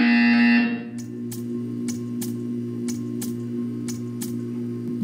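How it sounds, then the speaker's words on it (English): A loud buzzer blares for under a second in a Portal 2 test chamber, then cuts off, leaving a steady electronic hum broken by a series of sharp clicks. "When you hear the buzzer, stare at the art."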